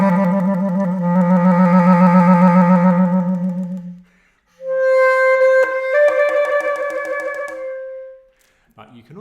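A bass clarinet plays trills that rapidly alternate two pitches, first a low wavering trill, then after a short pause a brighter, higher trill. The playing is close and clear, with no talking over it.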